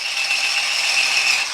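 An electric cleaning tool runs steadily at speed 3 against barbecue sauce, giving a continuous high whirring buzz with a faint mechanical rattle, close and unbroken throughout.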